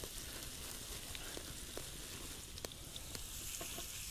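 Steak strips coated in homemade Cajun seasoning frying on a hobo twig stove in a UK woodland, a faint, steady sizzle and crackle with scattered small pops, no talking.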